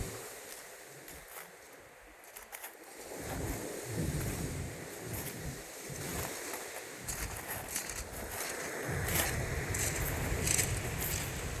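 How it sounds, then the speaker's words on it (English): Sea waves at a noisy shoreline roll in as a steady broadband wash, swelling and easing over several seconds, with wind buffeting the microphone and no voices. "Not very quiet place, kinda noisy, lots of sea waves."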